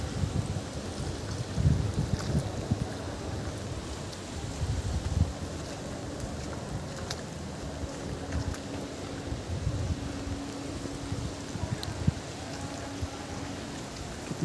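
Steady evening monsoon rain falls outdoors at Madhuban in July as a soft, continuous hiss of drops on surfaces and water, with faint wind and a few scattered taps throughout.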